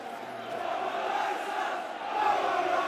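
A stadium crowd at a Millwall versus Sheffield Wednesday football match roars after a Millwall goal, a dense, sustained wall of voices from many people that swells again near the end.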